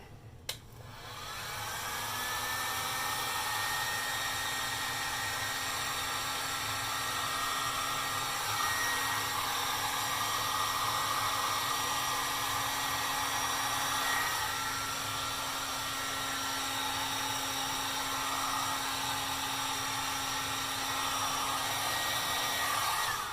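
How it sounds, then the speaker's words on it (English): A heat gun shrinking tubing during chassis work on a 1929 Atwater Kent 55C radio, a steady loud blowing whine with a fan hum, switched on at the start and running continuously. "Now I'm going to get my super duper heat gun out and shrink this down."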